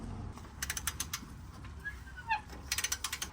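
A ratchet clicks in quick rapid bursts while loosening two 17mm bolts on a Mazda NA Miata differential, fairly faint, with a faint bird chirp in the background.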